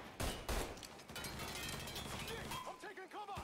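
Rapid gunfire in a first-person shooter video game: dense overlapping bursts and cracks that run for a few seconds, loud and close, mixed with voices.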